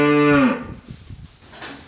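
A cow on an Aveyron cattle farm gives one loud, close, drawn-out moo that fades after half a second, followed by faint rustling and farmyard shuffling.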